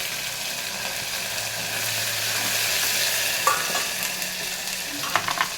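Onion, green chili and ginger paste fry in a pan with a steady, close sizzle and occasional stirring scrapes toward the end; no one talks.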